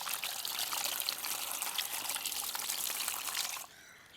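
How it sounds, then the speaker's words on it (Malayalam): Running tap water splashes steadily over a raw hamour fish as it is washed before grilling, a continuous close pour lasting several seconds that then stops suddenly, with no talking. "അപ്പോൾ നമുക്ക് ആദ്യമേ ഇത് നല്ലോണം കഴുകാം."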